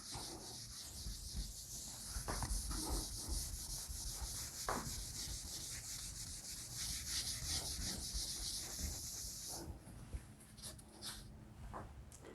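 Steady rubbing across a surface to bring up written words, a dry scratchy sanding-like sound that runs continuously for about ten seconds before easing off, with faint background noise and no talking.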